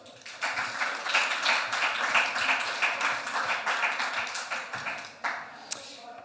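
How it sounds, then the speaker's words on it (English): An audience at a COP28 climate justice panel claps for a speaker being introduced, with dense, lively applause that builds quickly, holds steady, then thins out to a few scattered claps. "Please, a round of applause for Tony Agota."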